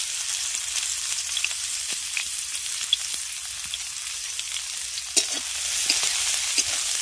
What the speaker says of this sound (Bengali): পেঁয়াজ আর কাঁচা লঙ্কাটাকে একটু ভেজে নেব।